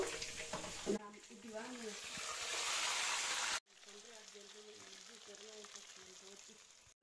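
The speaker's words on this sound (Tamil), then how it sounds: "பாருங்க, கடுகு பொரிஞ்சுன்னு இருக்கு" Mustard seeds spluttering in hot oil with dried chillies for ginger pickle, a close crackling sizzle that swells then drops off abruptly and continues more softly, with someone speaking briefly.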